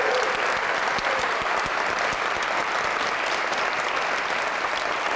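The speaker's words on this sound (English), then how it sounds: "give them one more round of applause." Audience applauding performers at a jazz and improvisation session, a dense, even wash of clapping that stays loud and unbroken throughout.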